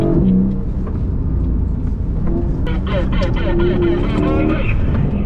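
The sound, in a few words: Porsche GT4 RS accelerating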